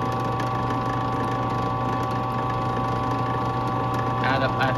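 A drill press spins a Westclox Big Ben Style 7 clock pivot for polishing at over 930 RPM, a steady mechanical whir with a constant hum and faint rattling. A short burst of talk comes near the end.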